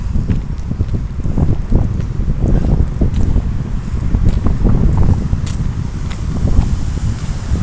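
A strong cold wind buffets the microphone outdoors in Kalix, Sweden, making a steady, loud low rumble and roar that lasts the whole stretch.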